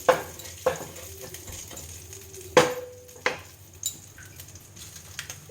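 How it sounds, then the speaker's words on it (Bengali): Low-heat pan with whole cumin being gently stirred: soft intermittent scrapes and light metallic taps of a spatula against the pan over a faint sizzle, sparse and close, no voices. "এগুলো দিয়ে আমি একটু হালকাভাবে নাড়াচাড়া করব"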